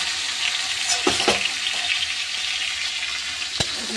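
Tomatoes go into a hot pan over a fried garlic, chilli, coriander and cumin paste and fry with a bright, busy sizzle, punctuated by a few sharp utensil knocks and scrapes, close up and without speech.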